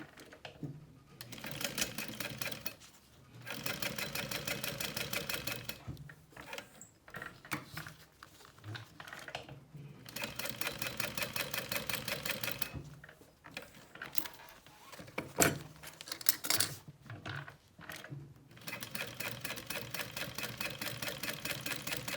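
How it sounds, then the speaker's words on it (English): A sewing machine stitches a sling strap, running in long steady bursts of rapid needle chatter broken by brief pauses, close and fairly loud with no talk. "so I can do my second row of stitching here"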